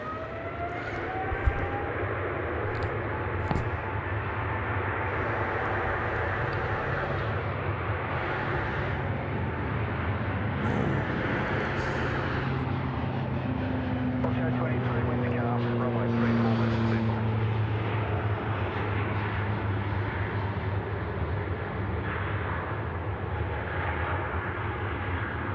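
An American Airlines Boeing 777 airliner at Sydney Airport produces a sustained, loud jet roar with slowly shifting engine whine, heard from a distance; people talk over the top of it throughout.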